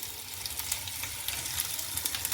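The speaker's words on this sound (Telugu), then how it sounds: "ఇప్పుడు దీంట్లోకి మనం ముందుగా ఫ్రై చేసుకున్న పీసెస్ వేసుకుందాం" Pre-fried eggplant pieces sizzle loudly in hot tempering oil in a pan, a steady crackling fry with scattered pops, close up and without talking.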